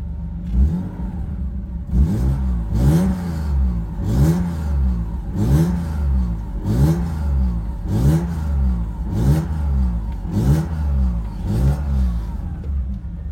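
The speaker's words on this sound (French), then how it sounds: "je vais essayer d'aller mettre un petit coup de gaz" BMW E36 drift car engine revved repeatedly while parked, about nine loud, close blips rising and falling in a steady rhythm over a rough idle.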